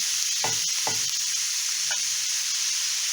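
Chicken liver frying in oil with tomato sauce, a constant hissing sizzle broken by a few thumping scrapes of a spoon stirring the pan, close and steady.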